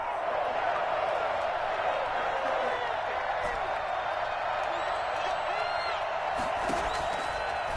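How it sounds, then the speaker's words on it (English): A stadium crowd in a Madden football video game roars steadily through a big third-down play, a dense continuous wash of cheering with a faint voice underneath. "the crowd getting into it as we come up on a big 3rd down"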